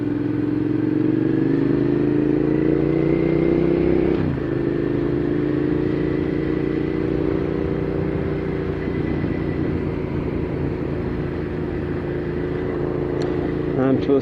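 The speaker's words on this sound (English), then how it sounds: "I'm out riding my motorcycle" A motorcycle engine drones steadily while riding in January, its pitch rising and dipping slightly, with rushing wind noise underneath.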